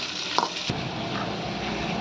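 Onion and capsicum pieces fry in a pan for chilli chicken, giving a steady, close sizzle with a brief clack near the start.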